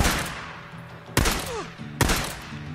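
Gunfire in the video game Days Gone: a fading shot at the start, then two sharp, loud single gunshots spaced under a second apart, each with a quick decaying tail.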